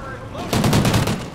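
Rapid automatic gunfire in the video game Call of Duty: Ghosts bursts in after a brief quieter lead-in, a loud rattling volley of closely spaced shots.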